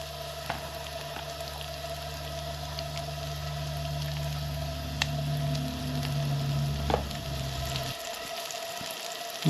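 Onions frying on an AGM KampKook LCS 21A camp stove, a steady close sizzle with a low burner hum underneath that cuts off near the end.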